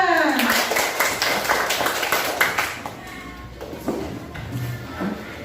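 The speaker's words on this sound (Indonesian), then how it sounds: "Tepuk tangan untuk kita semua." A class of Indonesian schoolchildren applauds in a short burst of clapping that fades after a few seconds, with a teacher's voice and classroom chatter over and after it.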